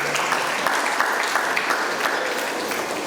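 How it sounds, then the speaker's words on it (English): Secondary school students clap together in a hall, a dense, steady burst of applause lasting a few seconds with faint voices underneath. "You guys can clap for yourselves for that."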